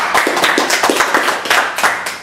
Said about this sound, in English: So let's have Lee a little round of applause.